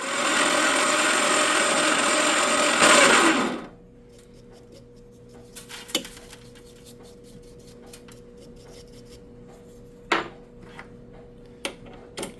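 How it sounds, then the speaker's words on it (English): A drill bores through brass pieces on a homemade coil winder build, whirring loudly and steadily for about three and a half seconds before stopping abruptly, followed by quiet workshop sounds with a few small clicks and knocks. "and drill all the brass pieces off."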